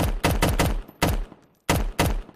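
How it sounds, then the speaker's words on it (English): A 10mm submachine gun fires in a DayZ Fallout mod video game, with sharp bursts of two or three rapid shots and single shots separated by short pauses, each crack loud and close with a quick decay. "10mm submachine gun."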